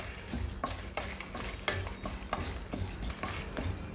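Toor dal and fenugreek seeds dry-roasting in a pan for vendhaya rasam, stirred steadily with a spatula scraping and rattling the grains in repeated strokes over a faint sizzle, close and alone with no talk.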